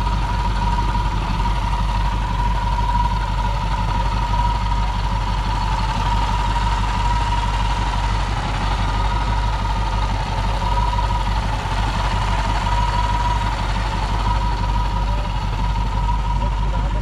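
A custom hot rod engine idles steadily and close by, a constant low rumble with a faint whine running through it, unchanging for the whole stretch with no talking over it.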